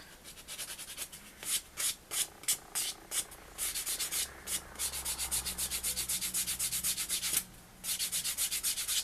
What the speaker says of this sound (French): je polis juste la surface comme ça